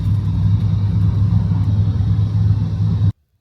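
A U-Haul rental moving truck engine hums with a low, steady road rumble throughout, close and loud, cutting off abruptly at the end.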